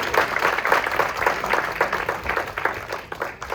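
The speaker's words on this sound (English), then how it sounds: "And one more round of applause for what they just presented here." An audience claps after a Shakespeare performance, many hands giving a dense, sustained round of applause that holds steady throughout and thins slightly at the close.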